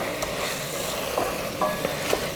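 Freshly ground garam masala being stirred into Malabar chicken biryani masala in a pan, a steady low sizzle with a few light scraping and tapping stirs, close by and without voices.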